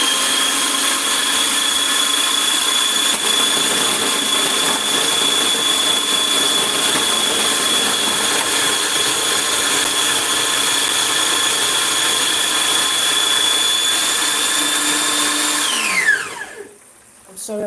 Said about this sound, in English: just going to blend this onion